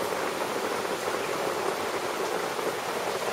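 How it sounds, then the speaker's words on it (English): Heavy rain pours down outdoors in a dense, steady hiss of countless drops, constant and fairly loud with no voices over it. "It is pouring right now."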